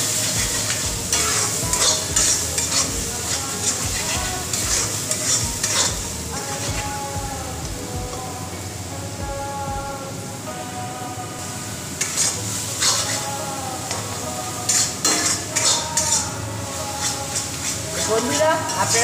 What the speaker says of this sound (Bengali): এই পেঁয়াজ কাঁচা লঙ্কা আদার পেস্টটাকে খুব ভালো করে ভেজে নিতে হবে